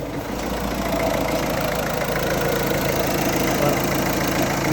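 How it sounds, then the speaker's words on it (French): A Citroen C4 Grand Picasso engine idles with its air-conditioning compressor engaged, giving a loud, close, even mechanical drone with a faint rapid ticking texture that holds steady throughout, with no voices. "Là, moteur de clim, compresseur, il tourne parfaitement."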